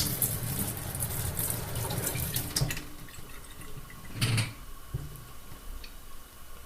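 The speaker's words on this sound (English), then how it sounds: "I'm going to turn the faucet on" A kitchen faucet, just repaired after a leak, is turned on and water rushes out in a hissing stream for a few seconds. It then drops to a quieter trickle with scattered splashes nearby.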